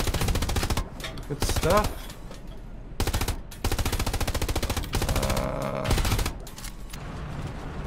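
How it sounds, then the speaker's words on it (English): Machine gun fire in a tank video game comes as rapid rattling bursts with brief gaps between them, while a voice speaks briefly over the shooting. "Fire with the MG."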